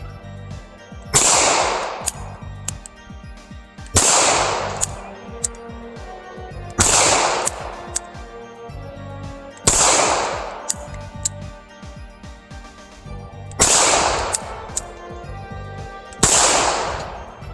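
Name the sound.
Walther PPK .380 pistol firing Hornady Critical Defense rounds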